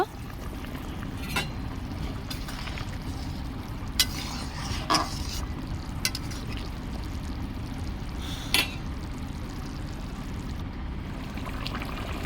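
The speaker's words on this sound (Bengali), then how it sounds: "জল দিয়ে কিছুক্ষণ ফুটিয়ে নেব।" Water simmering in a paneer curry, a steady low bubbling bed with a few soft clinks of a spoon against the pot, no voices.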